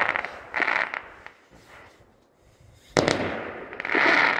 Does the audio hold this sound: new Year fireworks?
yes